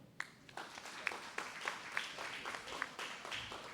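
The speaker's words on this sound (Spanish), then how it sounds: "pido un aplauso, por favor" Sparse, faint applause from an audience at an education lecture in Mexico, with scattered individual claps over quiet room noise for a few seconds.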